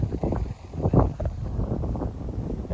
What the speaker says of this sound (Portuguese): Porque o vento tá muito forte também.